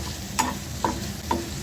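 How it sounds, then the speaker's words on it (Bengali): Prawns fry in a pan for a prawn mash, giving a steady hissing sizzle broken by three evenly spaced scraping stirs of a spatula. "চিংড়ি মাছ ভাজা হয়ে গেছে"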